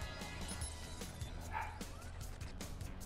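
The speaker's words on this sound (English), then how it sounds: "Lucky Quinn just let his dogs run wild" Dogs barking and yipping in the video game Watch Dogs, several excited barks and whimpers scattered over a dense, steady game soundscape at moderate distance.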